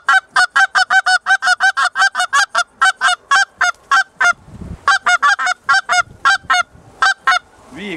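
Rapid, loud series of goose-like honks in quick double-note clusters, repeated rhythmically with a brief pause midway; likely a goose call imitating the bird.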